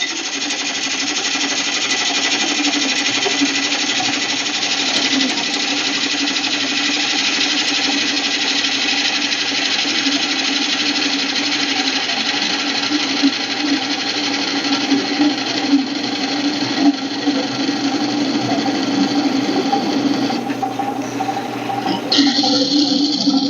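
A woodturning lathe makes a light hollowing cut into a bowl blank, giving a steady, loud whirring hum with a continuous scraping hiss that runs unbroken throughout, with no speech over it.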